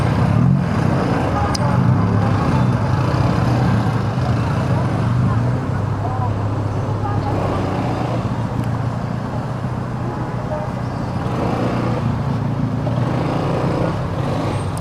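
Slow-moving traffic near a school at dismissal time, a constant rumble of cars and trucks with faint brake hisses, a nearby voice talking over it.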